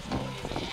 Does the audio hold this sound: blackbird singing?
no